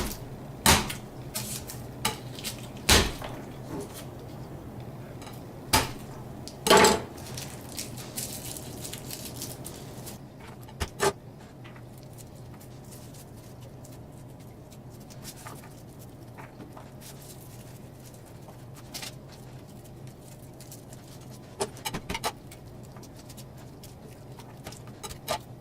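Small dry crackles, taps and rustles of papery skins being peeled off small garlic cloves by hand, with scattered sharper clicks early on and a quiet patter of fiddling over a low room hum.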